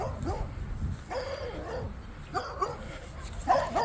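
A small dog at a park gives whiny yips and short barks in about four bursts spread across the clip, fairly close, with quieter stretches and faint background noise between them.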